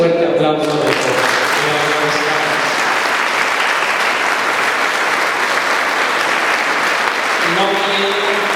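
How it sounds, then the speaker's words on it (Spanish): Loud, sustained applause from a parish audience at a church cultural gathering, a dense steady clapping wash lasting several seconds, with a voice talking briefly at the start and again near the end. "quiero que juntos le demos un fuerte aplauso de todos"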